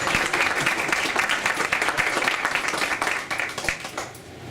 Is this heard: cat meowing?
no